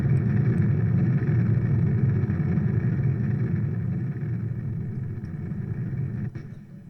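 A steady, loud rocket engine roar from a Kerbal Space Program launch, throttled up and holding a dense low rumble before easing slightly near the end, with no talking.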